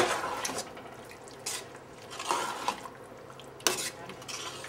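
A spoon stirs vegetarian chili in a pot, making quiet scraping and clinking strokes against the metal at an irregular rhythm, with a sharper knock near the end.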